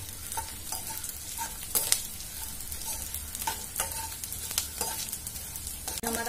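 Edible gum (gond) fries in hot fat in a pan with a steady close sizzle, while a spoon repeatedly stirs and scrapes against the pan in irregular clicks and taps.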